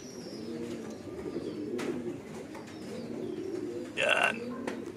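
Racing pigeons at a loft cooing in low, soft, repeated throaty calls, close and steady, with a brief louder flutter or call near the end while people talk nearby.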